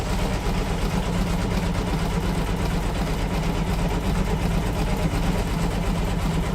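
An embroidery machine stitches an in-the-hoop earbud holder, giving a steady, close mechanical whir with a fast, even rhythmic chatter that runs without a break.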